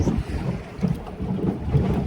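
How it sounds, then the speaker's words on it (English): Strong wind buffets the microphone with a steady low roar, gusting slightly, over open water from a boat with a trolling motor. "It's super windy."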